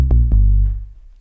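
Synth bass patch on a DRC synthesizer in the style of a song: a few quick, punchy low notes in fast succession, then a loud held note that decays away, close and dry, with no talking.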